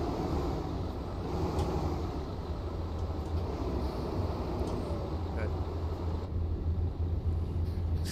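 A video game ice truck engine straining as it struggles up a slope, a steady low rumble that holds at a constant level for several seconds.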